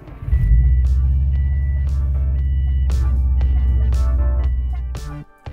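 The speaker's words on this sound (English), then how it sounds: "I started the car up, and it started up a lot quicker. Let me see if it starts up quick this time." A 2004 Subaru Impreza WRX engine cranks briefly and catches quickly, then settles into a loud, steady, throbbing idle for several seconds before cutting off near the end.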